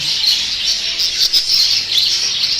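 Many birds, including budgerigars, chirp and squawk together in a dense, continuous chorus close by in a bird shop, shrill and busy with no pauses.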